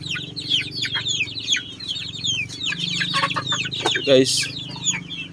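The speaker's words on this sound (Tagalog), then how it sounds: "Matangkad na manok po yan." Many chickens clucking and squawking close by on a small Filipino chicken farm, a dense overlapping chorus with a brief louder squawk near the end and someone speaking over it.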